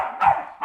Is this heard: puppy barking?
yes